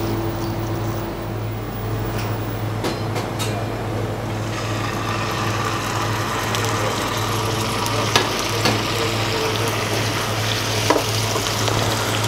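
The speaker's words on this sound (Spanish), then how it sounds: "Primero vamos a echar un poco de aceite en la sartén. Vamos a marcar el rape con un poquito de sal." Monkfish seasoned with salt sears in oil in a frying pan, a steady close sizzle that swells louder partway through, with scattered pops and a faint low hum underneath, no speech.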